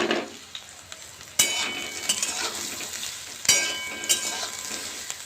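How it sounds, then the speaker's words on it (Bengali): Soybean chunks frying in hot mustard oil in a wok, a steady loud sizzle broken by a few sharp scrapes and knocks of a stirring spoon against the pan. "এবার আমি সোয়াবিনগুলো ভালো করে ভেজে নেব"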